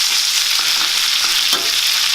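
Steaks sizzle loudly and close in a hot pan just after being flipped, a dense continuous crackle with a few small spatters.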